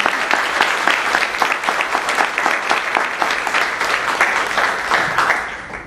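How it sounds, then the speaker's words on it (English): Audience applause at an academic institute event honoring a university group, a dense steady wash of many hands clapping alone for several seconds before tapering off. "give them a round of applause for their work this year"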